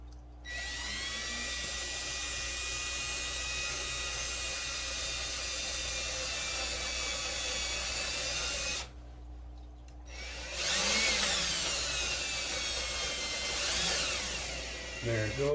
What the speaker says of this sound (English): You want to have a pretty good variable speed drill to do this, so you can go at it slow.